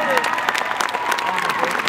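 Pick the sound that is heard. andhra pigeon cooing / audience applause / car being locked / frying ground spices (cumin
audience applause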